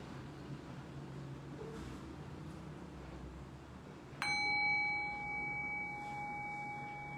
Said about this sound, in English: Rest your thinking mind on the sound of the bell.